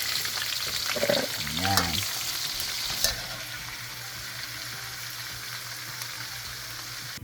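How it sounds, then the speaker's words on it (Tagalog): Sliced onion and garlic fry in oil in a pan for a beef and cabbage stir-fry, a steady soft sizzle under a few brief spoken words, with a sharp clatter of a utensil partway through. "at last na ang sibuyas at bawang. Iprito lang natin."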